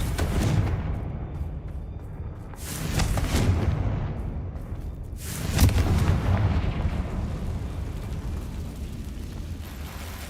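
Confringo fire-blast spell explosions from the Hogwarts Legacy video game, sounding as two or three heavy rumbling booms that swell and fade over a continuous low roar, loud and close.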